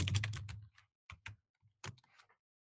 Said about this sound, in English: Pardon the gigantically loud gaming keyboard that you just heard